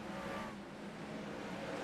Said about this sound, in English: And the engines come to life here at Rockingham.